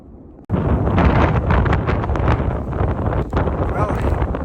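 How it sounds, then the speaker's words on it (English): Heavy wind of 30 to 35 mph gusts on a cold, sunny day on the Appalachian Trail in North Carolina buffets the microphone in loud, rumbling gusts, starting abruptly after a brief quieter moment and continuing with fluttering bursts. "Well, it's sunny, but windy and cold."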